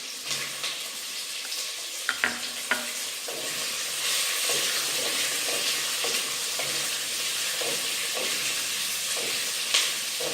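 Tomatoes fry and are stirred in a clay pot for pirandai chutney, a steady close sizzle with occasional scraping strokes of the spoon and a few sharp clinks, no voices.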